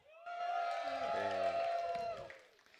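Crowd cheering and whooping at a StarCraft II grand final for the player Risky, a short burst of applause and voices from an arena audience that rises quickly, holds, then fades.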